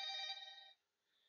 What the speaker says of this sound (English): the phone's ringing.